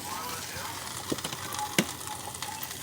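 Corn fries in a pan seasoned with cracked pepper, giving a steady, moderate sizzle and crackle with a few sharper pops. It carries on alone, with no voices over it.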